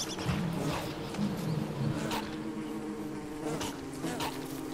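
Yellow bees in the survival game Don't Starve buzz loudly and continuously, a dense swarming drone that swells and fades slightly over a few seconds.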